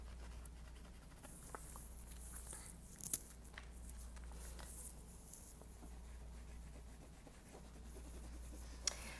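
A pencil scratches and strokes on paper while a portrait is drawn, making faint, soft, uneven scraping marks up close against a low background hum.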